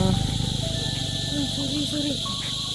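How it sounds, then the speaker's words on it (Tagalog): Crickets chirping on Siquijor island, a steady high-pitched insect trill that runs throughout, with a faint low background hum and some softer warbling tones underneath. "puro kuliglig kasi"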